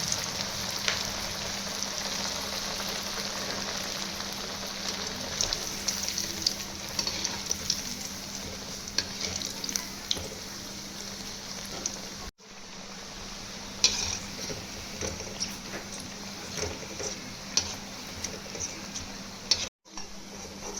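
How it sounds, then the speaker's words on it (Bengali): Crispy chicken chops frying in hot oil on reduced gas, a steady dense sizzle with fine crackles running continuously, close and moderately loud, no talking. "এবার আমি এই চপগুলোকে ভেজে নেব"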